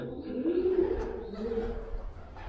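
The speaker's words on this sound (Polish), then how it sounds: "i te gołębie tutaj" Low, soft cooing of pigeons rolling on steadily for a couple of seconds, fairly close, with a faint murmur of background noise.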